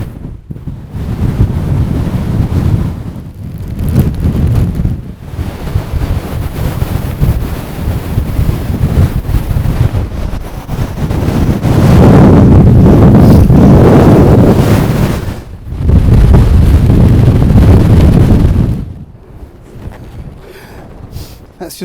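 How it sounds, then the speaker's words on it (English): Strong, cold wind buffets the microphone at a campsite, a continuous loud roar that swells and dips in gusts, briefly easing before surging again. "Let's just get out of this wind a little bit."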